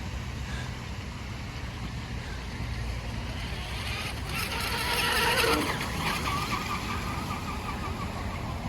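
A remote-control micro drifter boat with twin new motors runs on the water with a whiny, buzzing motor tone and rushing spray that swells briefly as it passes closer, then eases off.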